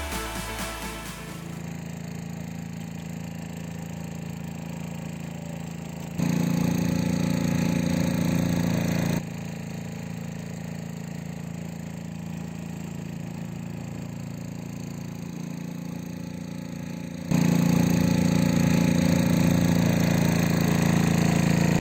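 A country boat engine at a tidal river crossing near Talsari beach, Odisha, chugs steadily and loudly throughout, its droning rumble stepping up in volume twice as people board.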